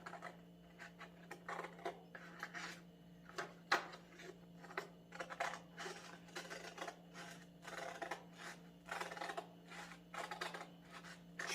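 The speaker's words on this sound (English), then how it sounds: "I'm going to take my scissors and I'm going to cut" Scissors snip through paper along a traced black line in a one-on-one lesson, a close run of short crisp cuts in irregular bursts over a steady low hum.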